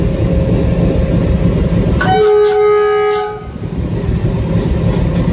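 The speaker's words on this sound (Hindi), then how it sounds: "पहले हॉर्न मारेंगे फिर चलेंगे।" An Indian Railways train sounds a loud, steady horn blast of about a second and a half over a heavy, constant rumble, which eases slightly afterward as the train begins to move.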